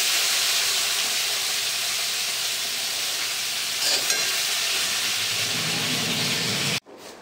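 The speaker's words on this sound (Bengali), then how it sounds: "এবার দিয়ে দেবো পেঁয়াজ।" Onions dropped into hot spiced oil in a wok, a loud broad hiss that holds steady and close for several seconds, then cuts off abruptly near the end.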